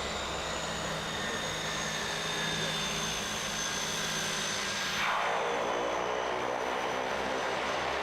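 A jet aircraft lands directly on glacier ice with no runway on Mount McKinley, a steady loud engine roar that holds throughout and shifts in tone partway through.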